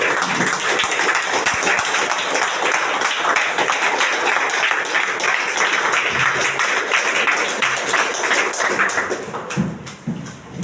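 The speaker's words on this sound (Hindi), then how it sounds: "एक बार अनिल सर के लिए भी तालियां होनी चाहिए।" A seminar audience claps loudly and steadily, a dense sustained round of applause that continues for several seconds before tapering off at the end.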